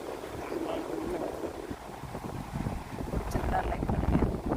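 Strong seaside wind buffets the microphone in a continuous rushing roar, with waves and faint murmuring voices underneath, growing slightly louder toward the end.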